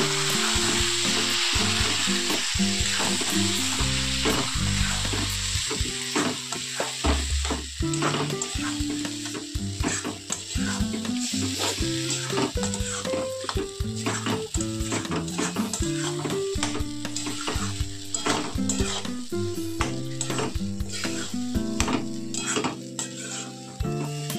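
Boiled sona moong dal with vegetables stirred and fried in a hot pan, a steady loud sizzle broken by repeated scraping stirs of a spoon against the metal, no voices.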